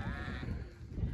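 Young lambs bleat in a wet, snowy mountain pasture, a steady chorus of calls close by over continuous low rumbling background noise, with no talking.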